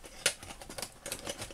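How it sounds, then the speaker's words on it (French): Scissors or a blade trimming excess paper while making a handmade lily-of-the-valley card, heard as a sharp snip followed by soft, close paper rustling and cutting sounds. "On va découper le surplus ici."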